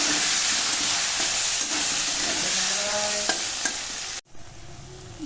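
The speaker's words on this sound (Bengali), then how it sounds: "এবার আমি আলুগুলো ছেড়ে দিলাম। এবার আলুগুলো একটু ভেজে নেব।" Potatoes frying in a pan with a loud, steady sizzle and occasional stirring scrapes, close up, then a brief cut and quieter sizzling.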